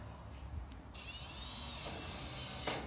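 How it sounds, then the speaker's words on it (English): Power drill driving screws into steel panelling on a chicken coop build, a faint high whirring burst that starts after a brief pause and runs steadily for a couple of seconds over quiet outdoor background. "Put a couple more screws in here."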